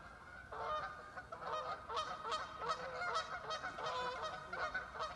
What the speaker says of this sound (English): The geese are relentless today.